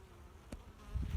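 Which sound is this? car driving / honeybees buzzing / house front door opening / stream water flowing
honeybees buzzing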